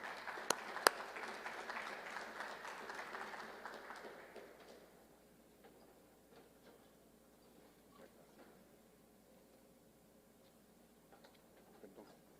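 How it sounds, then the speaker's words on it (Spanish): Audience applause at a Latin American nephrology congress session welcomes a speaker, moderate clapping with a couple of sharp claps that fades after about five seconds, leaving faint room noise and scattered small sounds. "Por favor, recibamos con un fuerte aplauso"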